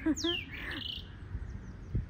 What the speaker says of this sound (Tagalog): Tsaka yung mga nagsasalitang mga ibon na may layang lumilipad.